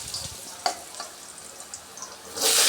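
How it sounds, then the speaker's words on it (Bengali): Potatoes frying in hot oil for a fish-head muri ghonto made with pangas fish head, a soft steady sizzle with a few small pops and a louder hissing burst near the end, no talking. "এই তেলে দিয়ে দিব আলু"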